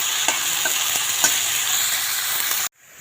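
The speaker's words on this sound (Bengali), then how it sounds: "তো বন্ধুরা দেখো এই যে আলুটা ভেজে নিচ্ছি।" Potatoes fry in a pan with a steady, loud, close sizzle and a few faint stirring scrapes. The sizzle cuts off abruptly near the end.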